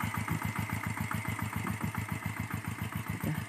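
A Kubota small walk-behind tractor engine runs close by in a farm field being prepared for planting. It makes a steady, rapid chugging thump with a fixed rhythm and no voices.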